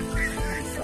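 Rooster and chickens give a quick, close burst of clucking and squawking fowl calls, lasting under a second.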